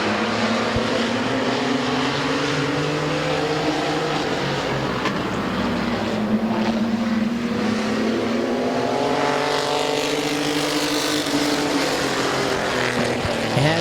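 Several race cars run side by side at Midvale Speedway, a steady loud roar of multiple engines rising and falling in pitch as they circle the oval, continuous throughout with no talk.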